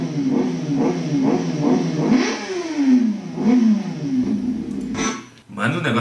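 A sport motorcycle engine revs repeatedly in rising and falling bursts, loud and close, with voices talking over it.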